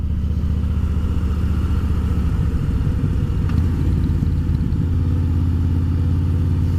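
A Harley-Davidson Fat Boy motorcycle leaning through a long cambered corner, its low engine rumble droning steadily and close, easing slightly near the end with wind in the background.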